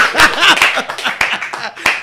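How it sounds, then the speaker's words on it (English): A few people clapping briefly and irregularly in a loose, close group, with voices and a bit of chatter mixed in, during a casual hangout with a Chicago rap artist. "Let's clap that."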